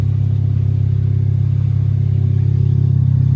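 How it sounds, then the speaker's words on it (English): A car fitted with a 2j Racing aftermarket exhaust runs close by, giving a loud, deep, steady rumble with no talking. "That sounds great. So much better than the stock exhaust."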